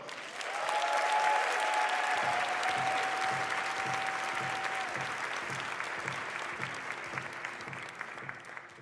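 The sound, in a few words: crowd applause at a mayoral inauguration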